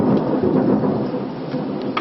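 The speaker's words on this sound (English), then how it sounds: "we just have massive lightning and a huge thunder right after I turned the camera off" Loud rumbling thunder rolls through a monsoon lightning storm with rain falling, a steady broad roar sustained across two seconds with no voices.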